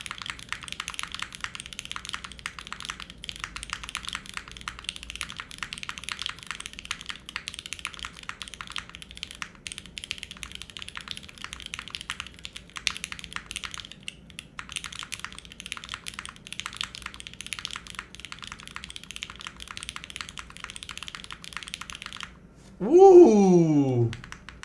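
Fast, continuous typing on a Mode SixtyFive mechanical keyboard, with dense, close clicks running steadily for over twenty seconds, then a short exclaiming voice at the very end.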